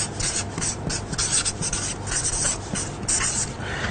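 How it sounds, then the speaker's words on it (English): Marker or chalk writing on a board during a classroom lesson, a steady scratchy rubbing of repeated strokes, close and fairly clear with no talking. "Okay, let's write that down."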